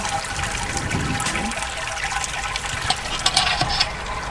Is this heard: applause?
no